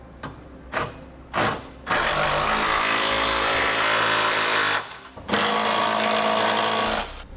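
Power tool tightening the bolts of an etrailer trailer hitch receiver on a 2017 Dodge: a few short rattling bursts, then two long loud buzzing impact runs separated by a brief pause, close up with no talk.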